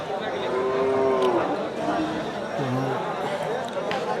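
Large red cattle at a village cattle market in Gafargaon, Bangladesh, with a couple of nearby moos rising over a busy murmur of voices and market bustle.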